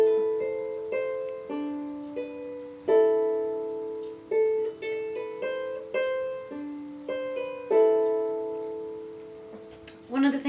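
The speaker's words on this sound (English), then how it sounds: "We've also procured a harp, which you've probably heard before." Harp of the Saxon era being plucked, with bright ringing notes and chords that sustain and overlap in an unhurried melody, close and alone, ending with a brief noisy touch.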